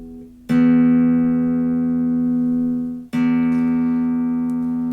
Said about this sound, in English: So this is what the 6th string E should sound like.